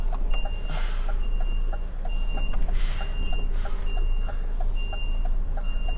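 A crane delivery truck with a trailer backs up on a tight London street, its reversing alarm beeping in a steady, evenly spaced pattern over a loud, low engine rumble.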